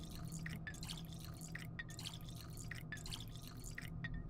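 In the Pathologic 2 video game, water drips rapidly in a steady, irregular patter while water is collected, with close, bright splashes over a low hum.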